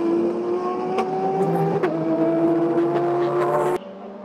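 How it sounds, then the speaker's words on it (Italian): A Ferrari Hypercar races at the Le Mans 24 Hours, its engine holding a loud, steady high-pitched drone with small gear shifts before the sound cuts off abruptly near the end. "Ecco la Ferrari al comando, luce rossa sulla fiancata, pallino solo rosso a indicare che è la macchina leader della categoria Ipercar."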